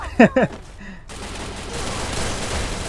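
Gunfire in the mobile battle royale game Free Fire follows a brief spoken voice. A loud, dense, continuous burst of shots fills the rest of the moment.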